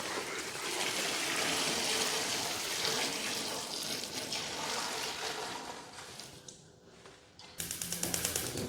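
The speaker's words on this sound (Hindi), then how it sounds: "इसके लिए हमने 3 से 4 लीटर गर्म पानी इसमें डाल देंगे।" Three to four litres of hot water pours steadily into a cooking pot for mutton dum pukht, a loud continuous splashing and gurgling that trails off near the end before some clattering.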